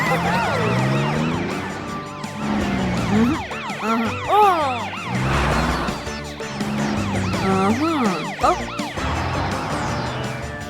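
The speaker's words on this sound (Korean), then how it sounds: "사이렌을 울리면 아기 트럭이 들을 수 있을 거예요" Cartoon-style siren wails of an animated police truck rising and falling repeatedly over bouncy background music, loud and close, with a few low thumps.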